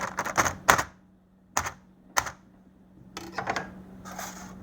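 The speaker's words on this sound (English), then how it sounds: "And then we'll puncture the film." Sharp plastic film on a frozen plant-based meal tray is punctured several times, crisp close pops and taps in short irregular clusters separated by quiet gaps.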